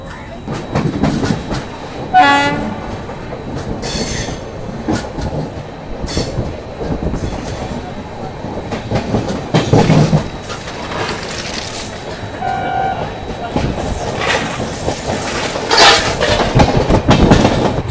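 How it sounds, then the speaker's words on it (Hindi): A Mumbai–Ahmedabad double-decker train runs after leaving Surat, with a loud continuous rumble and rhythmic clickety-clack of wheels, brief whistling horn tones and squealing wheels throughout. "चलिए फिलहाल अपना डिपार्चर जो है वो सूरत से हो चुका है"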